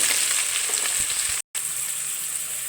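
Sliced onion frying in oil for a one-pot tomato biryani, a loud, dense, steady sizzle close by, broken by a very brief gap in the middle.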